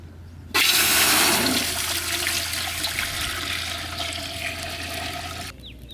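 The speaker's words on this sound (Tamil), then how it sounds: "பருப்பு வேக வைக்க தண்ணி ஊற்றிக்கலாம்." Water is poured into a cooking pot for boiling lentils in a village kitchen, rushing loudly and steadily for about five seconds, a broad hissing gush that starts abruptly and cuts off at the end, with no talking.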